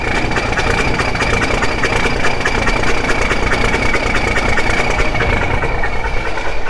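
A diesel Peterbilt 379 semi truck engine with newly installed injectors idles loudly and steadily, a close, continuous rumble with a rhythmic clattering knock.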